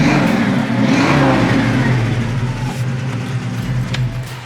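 A 1968 Ford Mustang Convertible engine revs loudly up close, a deep rumbling roar that surges and then settles into a steady growl.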